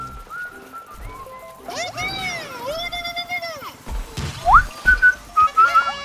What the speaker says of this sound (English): There's some like whistling going on right now.